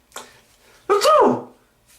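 A short intake of breath is followed by a sharp, loud sneeze, close to the listener, then quiet.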